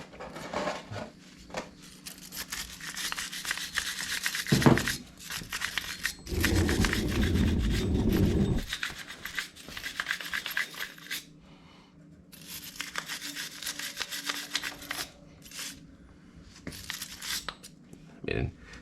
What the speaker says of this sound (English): Let me just brush it out real quick.